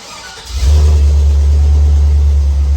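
A 6-liter gas engine, jump-started with a compact GOOLOO GT1500 jump starter, cranks briefly and catches, then settles into a loud, steady, deep idle rumble close by.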